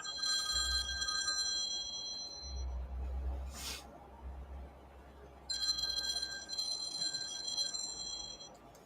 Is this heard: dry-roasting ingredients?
no